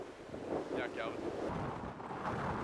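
Wind buffets the microphone outdoors at a disc golf tournament in Wyoming, giving a steady rough rumble with a brief faint whistle partway through.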